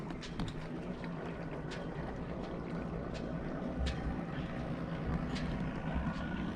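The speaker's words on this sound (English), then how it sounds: "here comes another motorboat, just kind of making his way in" A motorboat motors slowly in toward a boat ramp at a marina, its low engine drone steady and moderately distant, with scattered knocks and clatter nearby.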